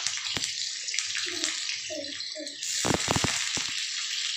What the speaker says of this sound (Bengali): তেলটা গরম হয়ে গেছে আমি এখানে সবার পেঁয়াজগুলো দিয়ে দিলাম